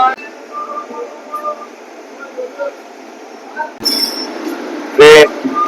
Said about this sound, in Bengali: দাঁড়িয়ে রয়েছি ইগাতপুরী স্টেশনে